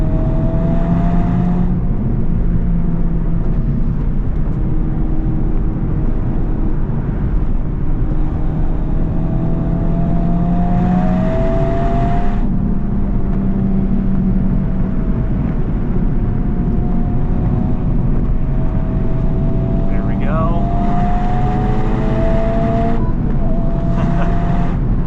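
Honda FL5 Civic Type R driven hard on canyon roads, a steady in-cabin engine drone with rising and falling revs through gear changes, loud and continuous with no talk.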